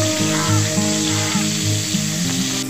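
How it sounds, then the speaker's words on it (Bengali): Potatoes and pointed gourd fry in oil in a pan for a fish curry, giving a steady close sizzle with a low rhythmic scraping as the pieces are stirred, and no one speaking. "নুনটা দিয়ে এবার আলু আর পটলটা খুব ভালো করে ভেজে নেব"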